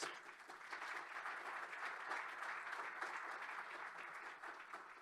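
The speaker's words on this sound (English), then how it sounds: "Give him a round of applause." A conference audience gives steady, even applause for Bernie McGuire of 57 Stars, a private equity manager, the clapping faint and distant but continuous for the whole stretch.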